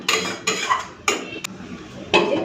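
A lid set onto a cooking pot while a vegetarian Bengali dish simmers, giving several sharp metallic clanks and clatters spaced through the moment, close and fairly loud with no voices.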